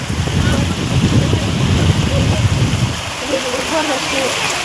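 Steady rain pours down in a dense, even hiss, loud and close, with a low rumbling wash beneath it throughout.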